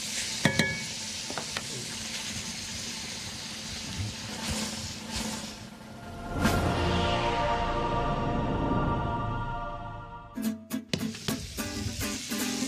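Sausage and peppers sizzle steadily in a hot pan, with a loud whoosh and rattle as the pan is tossed, then clanks and scrapes as it settles back down; close and continuous, with no talk.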